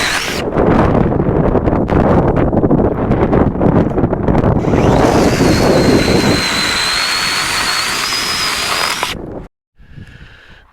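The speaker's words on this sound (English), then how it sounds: "It's quite breezy right now" Breezy wind blows across an oceanside beach, a steady loud rush buffeting the microphone for about nine seconds before cutting off, with a faint thin whistle in the later part and a quieter stretch at the end.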